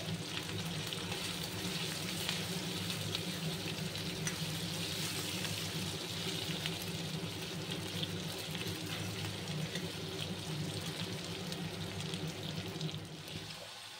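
Chicken and potatoes fry in hot oil for a chicken and young jackfruit curry, a loud, dense, unbroken sizzle held close and steady throughout, easing slightly at the very end.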